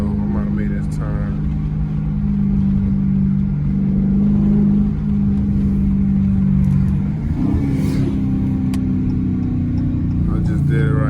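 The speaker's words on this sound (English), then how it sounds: "That is rev shifting, guys. When you rev the gas up and then you shift." A Dodge Charger Scat Pack or Hellcat V8 engine drones loudly and steadily up close, with a sudden shift in pitch partway through as revs are matched on a downshift, while someone talks over it.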